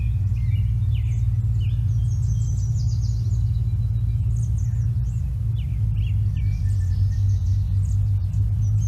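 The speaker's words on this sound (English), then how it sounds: "There's a yellow warbler singing and a robin too." Distant songs of a yellow warbler and an American robin, with repeated bright chirping phrases rising faintly above a constant low rumble.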